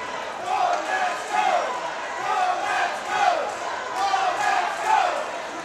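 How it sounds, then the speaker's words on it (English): London fans cheering their hockey team on in a rink during a Falcons versus Nationals game, rising and falling crowd chants in rhythmic swells heard at a distance in the background, with no clear voice up front. "You can hear the London fans cheering their team on in the background."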